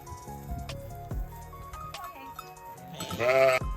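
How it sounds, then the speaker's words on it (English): Sheep bleat in a farm field, a loud, wavering cry rising near the end over a busy background of other farm sounds. "What if we go ahead and let the sheep in and let them all chill out"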